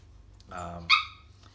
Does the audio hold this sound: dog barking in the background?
yes